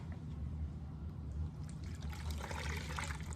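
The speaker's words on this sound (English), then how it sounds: "So let me pour this in here." Coffee punch being poured into a large 8-quart bowl, a steady liquid splashing and trickling at close range that grows brighter and fuller toward the end, with no talk.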